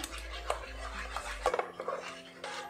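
Full cream milk mixture for kulfi being stirred in a pot or bowl, with a few clinks of utensil against the vessel over a low steady hum, close and moderately quiet.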